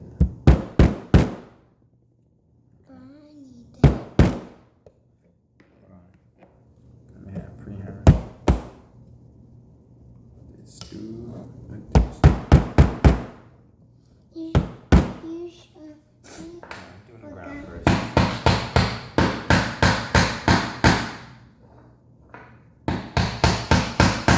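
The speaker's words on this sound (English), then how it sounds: "Hammer some of the stuff, okay?" Sharp hammer blows on wooden toy monster truck parts come in quick bursts of several strikes, pausing between sets, with a voice and soft talking in the gaps.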